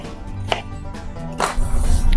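A knife slices green plantains with about three sharp, separate cuts spaced along a quiet kitchen background.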